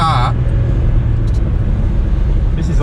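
Small Volkswagen Up hatchback driven hard on a race track, its engine droning loudly and steadily close by, with brief voices at the start and end.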